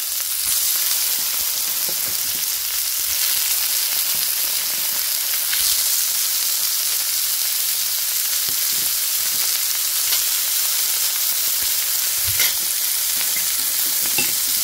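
Fish balls frying in a pan with garlic and onion, producing a steady, close sizzle with light stirring scrapes throughout and no talking.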